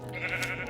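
A single wavering sheep bleat from a survival video game, brief and moderately loud over a steady background hum.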